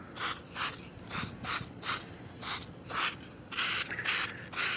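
Short bursts from a spray can aimed under a new dining table in an RV, about a dozen hissing puffs in a quick, uneven rhythm, close and fairly loud with no talking.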